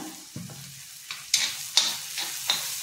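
Spices with turmeric and Malvani masala sautéed in a pan: a soft sizzle under several sharp scraping strokes of a spoon stirring, close and moderately loud, with no talking.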